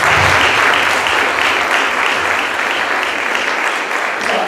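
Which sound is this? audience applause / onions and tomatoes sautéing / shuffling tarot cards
audience applause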